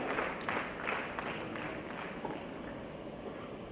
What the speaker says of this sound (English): A big round of applause for all these wonderful gentlemen who joined us today.